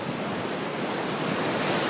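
Ocean surf at Costa Beach near Tamarindo, Costa Rica, heard as a steady, full wash of breaking waves, loud and close with some wind, with no voices.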